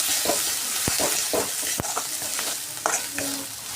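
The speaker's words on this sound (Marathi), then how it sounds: "अगोदर आपण हा वाटून घेतलेला मसाला आहे तो घालून घेऊया कांद्यामध्ये छान पण परतवून घेऊया असा" Ground masala sautéed with onions in a pan for Kolhapuri chicken rassa: repeated sharp spatula scrapes and knocks over a steady sizzle, close and lively, without talk.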